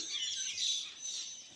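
Birds chirp and trill outdoors in Innisfail, Australia, a dense high twittering chorus heard at a moderate distance with no talk over it.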